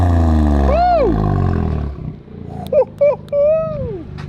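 A Toyota GR Corolla with a newly installed downpipe revs from cold: a loud, deep drone falls away, then three short sharp blips rise and drop, ending with one longer rev that sweeps down.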